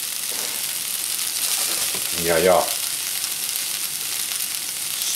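Pieces of patterned pasta boil in a pot, giving a steady, close bubbling hiss throughout, with a brief voice speaking partway through.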